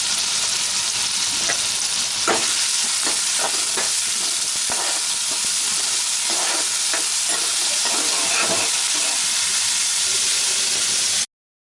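Butter paneer cooks in a pan with a continuous loud sizzle and frying hiss, broken by repeated scraping stir strokes throughout, and no talk.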